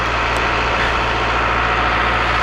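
A tractor tilling a dry, dusty sorghum food plot, its engine a steady, loud, low drone throughout with no change in pace and no voices.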